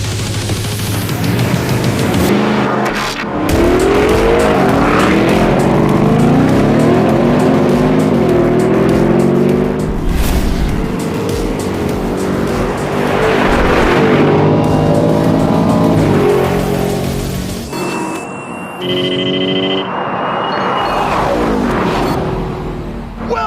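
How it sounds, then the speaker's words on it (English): Ford Raptor R and Mercedes G63 AMG launch side by side in a drag race, engines roaring loud and close with rising revs and gear changes, tire noise over a steady engine drone, a brief whine near the end. "The Mercedes front end gets light on the launch, but the longer wheelbase Raptor just leaves the AMG for dead"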